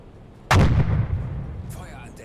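Deck gun of a U-boat firing in the video game U-Boat, one loud, close blast followed by a long rumbling decay, with a faint voice toward the end.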